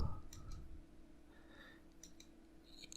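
A few light, sharp clicks on the control panel of a CNC machining center as the incremental mode button is pressed, close and fairly quiet over a low steady machine-shop hum.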